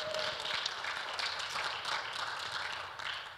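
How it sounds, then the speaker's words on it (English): An audience at a talk on free software law gives a warm round of applause, a steady wash of many hands clapping at moderate, distant level that tapers slightly toward the end. "let's give her a warm round of applause to finish our day"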